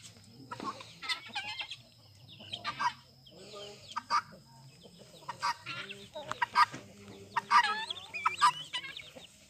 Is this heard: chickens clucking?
yes